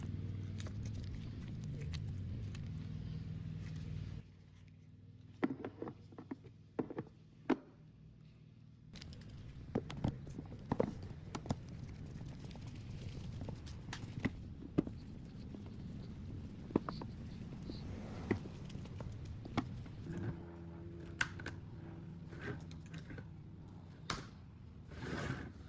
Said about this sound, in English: you'll just need a Phillips head screwdriver to get this done